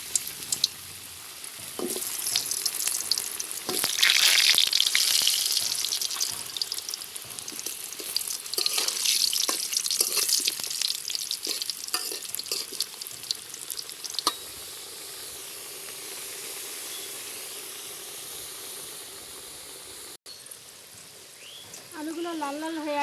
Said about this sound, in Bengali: তেল গরম হয়ে গেছে, এবার দিয়ে দিব আলুগুলো।